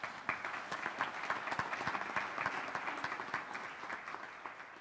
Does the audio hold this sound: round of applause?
yes